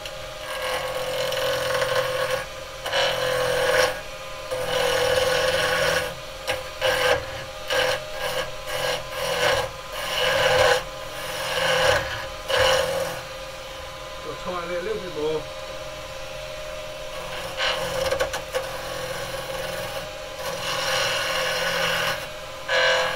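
Skew chisel cutting an elm burr spinning on a wood lathe, giving a steady rasping scrape that runs in repeated bursts with short pauses, close and fairly loud.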